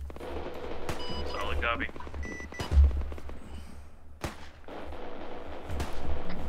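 Heavy gunfire from a minigun in a military video game, heard as scattered loud bursts and booming impacts, with radio-style voices talking over the shooting.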